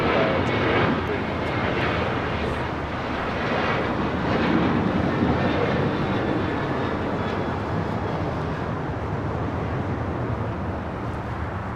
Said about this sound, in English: This is American Airlines Flight 2983 taking off to Indianapolis on a 737-800.